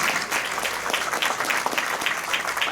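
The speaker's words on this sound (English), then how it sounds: "Sandy, I think Sandy deserves a round of applause for all the hard work that she did." Rotary Club members at a meeting break into a round of applause, dense steady clapping filling the room for a few seconds with no talking over it.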